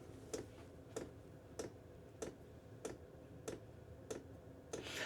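A running Chinese diesel heater in a workshop ticks steadily, about eight even, fairly faint clicks over a low constant hum.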